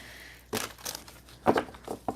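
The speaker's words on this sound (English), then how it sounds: "I don't even normally shuffle like this" Tarot cards shuffled by hand in a few quick crisp riffling bursts, each lasting a fraction of a second, close and fairly soft with short pauses between.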